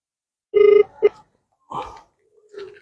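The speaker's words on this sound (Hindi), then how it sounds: "रिंगटोन जो आ रही, ये रिंगटोन का मतलब क्या है।" Short electronic ringback tones pulse on a phone line, a couple of quick beeps followed by fainter tones after pauses, thin and clear.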